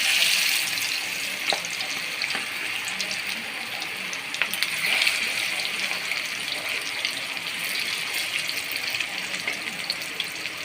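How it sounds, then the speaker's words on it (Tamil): Small nethili anchovies frying in hot oil in a kadai, giving a steady, dense hiss and crackle with scattered sharp pops that continues throughout and is heard alone. "எண்ணெய் சூடாயிடுச்சு. இப்போ நெத்தியில் கொஞ்சம் கொஞ்சமாக வச்சுக்கலாம்."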